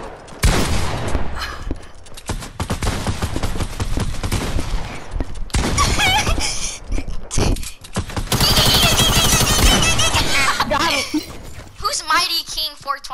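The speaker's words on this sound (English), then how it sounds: "Oh, I'm still good at the hand cannon." Rapid hand cannon gunfire in a video game, bursts of loud shots and impacts over continuous game noise, with a player talking over the action.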